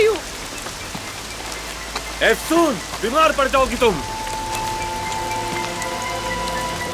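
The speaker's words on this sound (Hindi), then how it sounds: "बारिश हो रही है, अंदर आओ तुम।" Steady rain falls and patters on surfaces outdoors, a continuous hiss that carries on under a woman's speech and some brief music.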